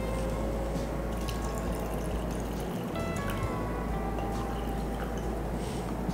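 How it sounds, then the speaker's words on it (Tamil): Milk poured into a mixer jar while making rose milk, a steady liquid splashing and trickling sound running throughout at close range, with no voices. "நம்ம இன்னும் கொஞ்சம் பால் விட்டுக்கலாம்"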